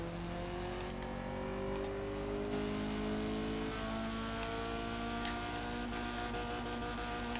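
A car engine in Forza Horizon 4 revs hard, its whine climbing in pitch through successive gear shifts, loud and continuous with no talking.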